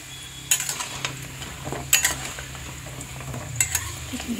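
Sattu-stuffed litti fry in refined oil on a griddle with a constant close hiss, broken by three bursts of scraping and turning from a utensil.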